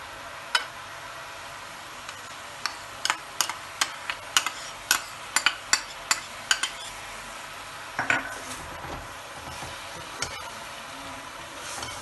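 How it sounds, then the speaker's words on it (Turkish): Spoon stirring leeks and rice sautéing in a pot, with a string of sharp utensil taps and scrapes against the pot over a faint steady sizzle, no talk. "Biraz pirinçle de kavuruyoruz."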